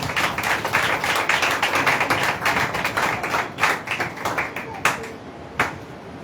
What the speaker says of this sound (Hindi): आइए जोरदार तालियां के पास से